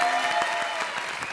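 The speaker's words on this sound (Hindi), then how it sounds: "ताली बजाओ।" Brief burst of studio audience applause on a comedy show, a dense patter of many hands clapping at moderate volume.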